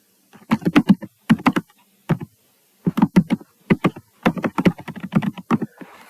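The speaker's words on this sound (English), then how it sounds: "I can reply to the question and just type in" Typing on a computer keyboard, quick clusters of close, crisp key clicks arriving in several bursts separated by short pauses, with no talking over them.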